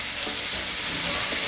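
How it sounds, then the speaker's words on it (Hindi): Chopped onions sizzle steadily in a hot pan with a little oil, a close, even hiss of frying with faint stirring, no voices. "इस कांदे को हम 2 से 3 मिनट तक पकाएंगे।"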